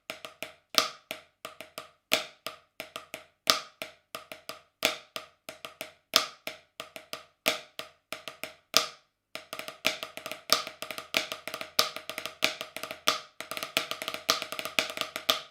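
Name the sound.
drum rudiment permutation pattern being played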